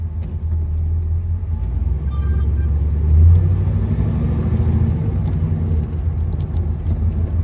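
A muscle car rumbles steadily along on a drive, its deep low engine drone continuous and loud from inside the car, swelling briefly midway as it pulls harder, with no talk.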